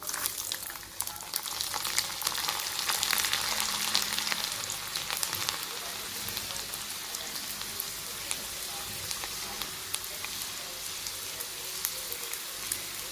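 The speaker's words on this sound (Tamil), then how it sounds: "எண்ணெய் ஊற்றிக்கலாம், கடுகு போட்டுக்கலாம், பூண்டு போட்டுக்கலாம்" Steady crackling sizzle of mustard seeds and garlic frying in hot oil, continuous and close, with faint popping throughout.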